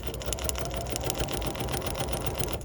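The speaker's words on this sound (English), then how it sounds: "I'm just going to take this over to my machine here, and I'm going to stitch on this line." A sewing machine stitches fabric along a marked line, its needle running in a fast, even mechanical patter close by and alone, stopping abruptly at the end.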